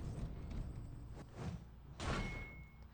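Heavy blows break through a locked door in the sci-fi shooter Space Hulk: Deathwing, with a sharp crash near 2 s after lighter thuds at 1.2 and 1.5 s, over a steady game rumble and a thin electronic tone.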